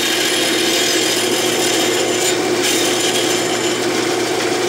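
A file rasps steadily across a rough lead flywheel casting, a dense, continuous scraping that stays loud and close with no pauses and no voices.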